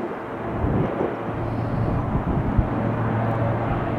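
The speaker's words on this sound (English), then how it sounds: "Nice takeoff." An airliner takes off from Tampa International Airport on a chilly day, its engines making a broad, steady jet roar with a low drone that holds strong and close for the whole stretch, with no talk.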